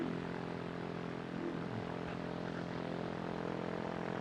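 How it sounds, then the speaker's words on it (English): A steady, continuous engine drone from an ultralight aircraft idling as it warms up, holding an even level throughout with no talk over it. "So we're just letting the engine warm up a little bit more."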